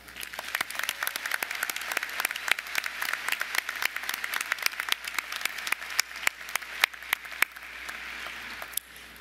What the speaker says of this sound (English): I hope you will join me in giving them a deserving round of applause